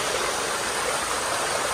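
Natural spring water gushing out from inside a mountain at a cave shrine, a steady, loud, unbroken rush of flowing water with no pauses.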